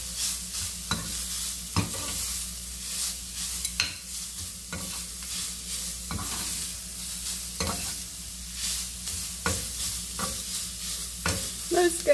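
Carrots fry in a pan while being stirred for a cabbage and carrot omelette. A soft continuous sizzle runs underneath as a utensil scrapes and knocks against the pan in irregular strokes, close by and with no voices.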